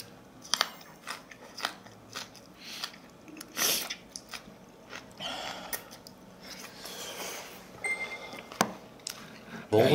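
Close, wet chewing and crunching of very spicy napa kimchi with instant black bean noodles, with irregular bites, squishes and crackles throughout and no talking.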